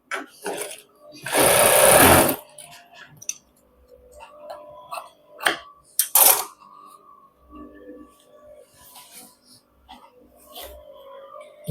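A sewing machine stitches a back pocket in short bursts, with one loud two-second run and a briefer one later, separated by quiet handling clicks and rustles.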